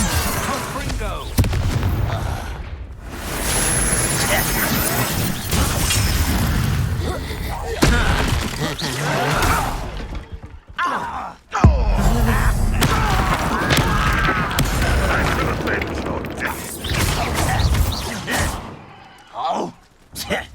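Confringo blasting spells explode during Hogwarts Legacy combat, with heavy booms and crashes bursting repeatedly through a dense mix of game effects and voices talking.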